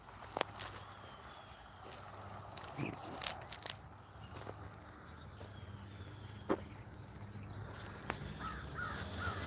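Several sharp bird calls, crow-like caws, sound out at a distance over steady outdoor background noise, scattered unevenly through the clip.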